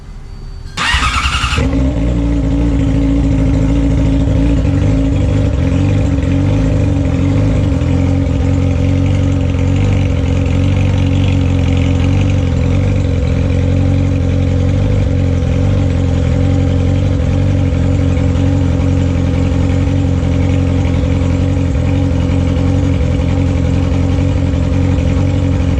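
Yamaha R6 motorcycle engine, 2008–2019 generation, starting up and then running steadily at idle after a coolant flush, a close, loud and continuous mechanical drone with no speech over it.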